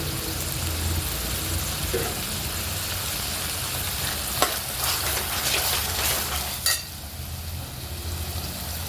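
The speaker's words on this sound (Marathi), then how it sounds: "तेलात फ्राय होऊ द्यायचा आहे मसाला छान" Masala spices frying in oil for a Maharashtrian chicken rassa, a steady close sizzle with occasional louder crackles and a few spoon scrapes against the pan, no voices.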